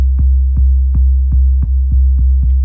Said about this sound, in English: And you can already hear that kind of 808 style coming.